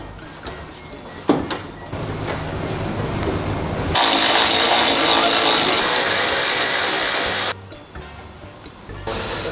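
A power tool tightens screws on the steel frame of a Segway Snarler AT6 ATV: one loud, close, sustained whirring burst of about three and a half seconds, framed by quieter clunks and handling noises.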